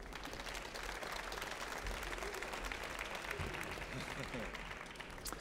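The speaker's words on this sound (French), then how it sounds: "Je vous demanderai de les applaudir, s'il vous plaît." Studio audience applauding on a French cooking show, a steady, dense wash of clapping lasting several seconds at moderate distance, with some voices mixed in.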